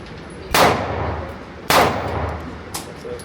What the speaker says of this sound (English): Shoot it one more.